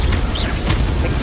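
Incendio fire spell cast in the video game Hogwarts Legacy, a loud, close whooshing burst of flame with booming pops over about a second.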